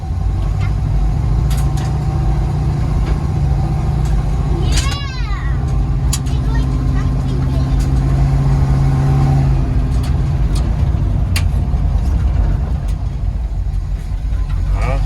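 A 1981 Oldsmobile Delta 88 engine revs hard with the pedal floored as the car drives off, a loud, sustained roar that climbs and shifts, likely into second gear, with voices talking over it.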